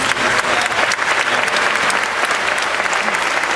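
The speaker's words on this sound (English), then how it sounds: "we have to give one more round of applause to all of our student speakers" A school promotion ceremony audience applauds student speakers: loud, dense clapping from a large crowd that sustains evenly throughout with no pauses.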